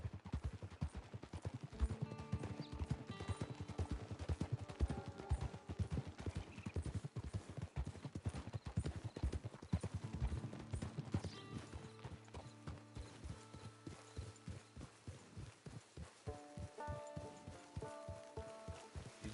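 Horse hooves clip-clop in Red Dead Redemption 2 Online in a fast, even, continuous rhythm close by, over soft tonal game music.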